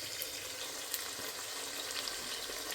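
Whole cumin seeds and cloves fry in hot oil for a chickpea and green onion pulao, giving a steady, even crackling hiss at low level with no voices.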